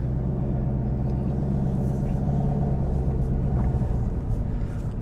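A 2022 Chevrolet Camaro ZL1 idles with a steady, deep low rumble from its engine, constant and close throughout.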